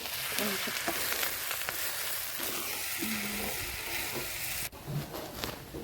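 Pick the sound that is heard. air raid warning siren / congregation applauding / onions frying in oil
onions frying in oil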